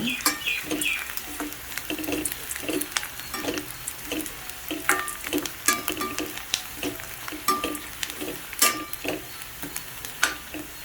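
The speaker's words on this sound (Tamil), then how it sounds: "வெங்காயம் நல்லா வதங்குது." Onions sizzle and sputter in a hot pan while a utensil scrapes and stirs at an uneven rhythm, close by.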